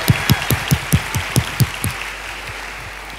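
Church congregation applause with a burst of roughly eight rhythmic, synchronized claps that then fade into scattered, softer clapping.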